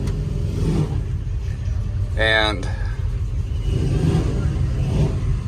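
An old Ford F-350 crew cab truck, on its first drive in 11 years, rumbles at idle and then revs, a deep steady engine drone with someone talking over it.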